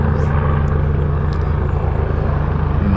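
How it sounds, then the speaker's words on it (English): Helicopter passing overhead, a loud, steady rotor and engine drone filling the whole stretch with constant low rumble and no speech. "Damn, that helicopter, the noise fucking hits my ears, man."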